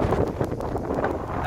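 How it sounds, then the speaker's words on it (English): Wind blows outdoors and buffets the microphone in a steady, dense low rumble with slight gusting, close and fairly loud, lasting a brief moment with no voices. "it's getting a bit windy"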